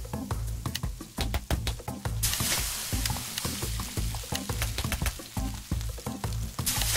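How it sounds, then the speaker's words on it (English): Burgers sizzle and fry on a grill in the Cook Serve Delicious 2 video game, with a steady loud crackle and quick clicky scrapes and taps, plus a brief gush of sizzle partway through. "cook the burgers"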